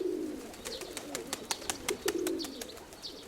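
Pigeons coo softly in a steady low murmur, joined by quick repeated wing flutters or tapping close by, with no voices.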